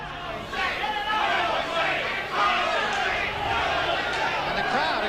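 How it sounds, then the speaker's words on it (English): A boxing arena crowd cheers and chants in support of a fighter during a bout against Tyson, a loud, sustained roar of many voices with rhythmic shouting. "And the crowd, again, showing its both appreciation and support for Jose Revolta."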